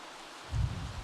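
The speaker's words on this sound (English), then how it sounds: "the rain is so loud" Steady rain hisses in The Sims 3, a broad even wash that thickens with a low rumbling surge midway, heard alone without voices.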